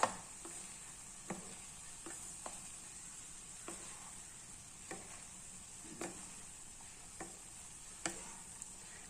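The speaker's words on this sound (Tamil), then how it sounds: "இது மாதிரி ரெண்டு மரக்கரண்டி இருந்தாலும் நல்லா வந்து மிக்ஸ் பண்ணிவிடுங்க" Vegetable fried rice is tossed and mixed in a pan with two wooden spoons, giving faint background sizzle broken by soft irregular knocks and scrapes about once a second, no talk.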